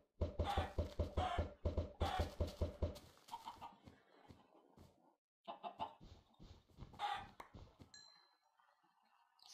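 Chickens in a 2D Minecraft-style video game cluck in quick repeated bursts, then in scattered, softer calls, with no one talking.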